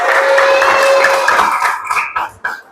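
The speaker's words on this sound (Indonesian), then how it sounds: "Boleh tepuk tangan buat temennya." Classmates in a classroom clap for a fellow student after a group presentation, a brief burst of scattered hand claps mixed with crowd murmur that thins out toward the end.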